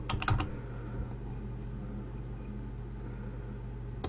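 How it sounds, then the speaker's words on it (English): Typing on a computer keyboard to enter a value into a pounds-to-kilograms converter program: a quick burst of a few close keystrokes at the start, then only a steady low electrical hum with no further keys and no talking. "Type in 500 pounds"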